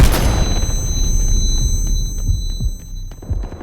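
A loud explosive bomb boom with heavy low rumble in the video game Delta Force, followed by scattered distant pops and thuds, like gunfire and blasts in a battle scene.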